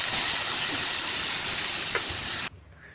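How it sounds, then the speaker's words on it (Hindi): Vegetables are tempered in a hot pan in a home kitchen. A loud, dense sizzle and crackle runs continuously up close, then drops off abruptly near the end. "सब्ज़ी को छौंक रही हूँ।"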